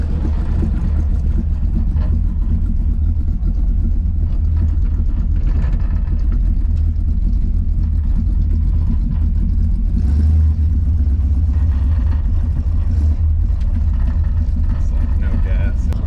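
A rattly old hot rod drives down the road with a fitted Power Master mini starter, its engine a deep, continuous rumble with a swell of acceleration midway, while people talk over it inside.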